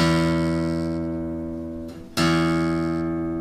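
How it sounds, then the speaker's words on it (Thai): A single low E sixth string plucked on a guitar during tuning, ringing loud and sustained, cut briefly and then struck again so the note rings on alone. "ผมอันที่สาย6ครับเสียง E ครับ"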